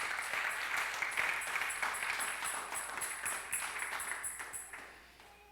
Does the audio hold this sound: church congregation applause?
yes